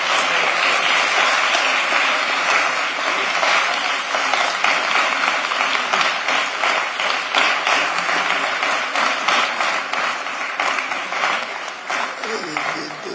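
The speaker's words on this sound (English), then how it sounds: "I want you guys to give a round of applause to our Public Works employees." A city commission meeting audience applauds Public Works employees with sustained, fairly loud clapping from many hands, steady and dense throughout before tapering toward the end.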